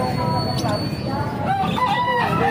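A rooster crows loudly and nearby in a drawn-out call at an animal market in San Jose del Monte, Bulacan, over a busy background with people talking and haggling.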